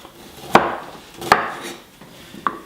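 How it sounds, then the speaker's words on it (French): A knife chops a cucumber into small cubes on a board, three sharp, separate cuts with short gaps, close and clear, with no voices. "Et je vais venir couper en petits cubes."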